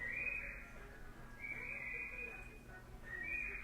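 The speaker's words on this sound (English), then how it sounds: "I'm sorry if you hear that loud whistling." A high, shrill whistle sounds in three drawn-out bursts with pauses between, fairly loud above a low steady background hum.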